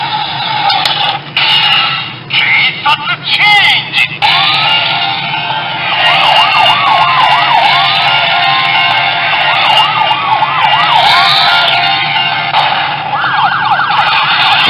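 A Lupinranger VS Changer transformation toy plays loud, continuous electronic sound effects, with warbling, siren-like sweeping tones over a steady synthetic bed that fills the whole stretch, with no talking.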